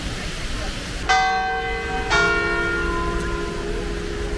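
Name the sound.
church bell striking the hour in central Paris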